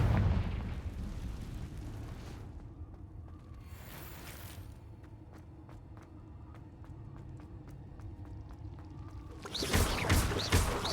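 Confringo fire-blast spell explosions in Hogwarts Legacy: a rumbling low blast at the start, softer pops and bursts through the middle with a faint crackle, then a louder burst near the end.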